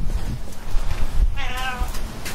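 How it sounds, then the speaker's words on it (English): A single drawn-out, warbling meow from a hairless cat rises briefly over low background noise and faint handling sounds. "He has a very interesting meow"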